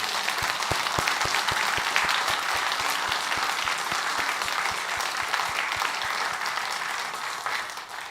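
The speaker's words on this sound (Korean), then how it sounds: "감사와 영광의 박수 올려드리겠습니다" A congregation claps together at a Christmas celebration service in a Korean church, a broad, sustained wash of applause with a faint regular beat in it that eases slightly toward the end.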